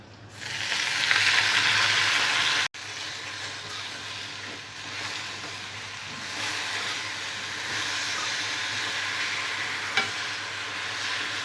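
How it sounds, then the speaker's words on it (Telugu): Gongura sorrel leaves dropped into hot oil already used for green chillies and garlic, a loud steady sizzle and hiss that surges at once, cuts briefly, then carries on evenly under light stirring, close up with no talk. "పచ్చిమిరపకాయలు వెల్లుల్లిపాయలు ఫ్రై చేసుకున్న ఇదే ఆయిల్లో గోంగూర వేసుకోవాలి."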